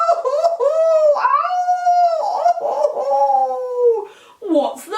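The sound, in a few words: person imitating a dog howling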